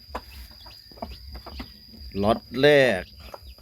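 Pradu Hang Dam breeder hen from Chiang Mai clucking nearby, short scattered clucks building to a louder drawn-out call, with a person speaking briefly and a steady insect-like whine in the background.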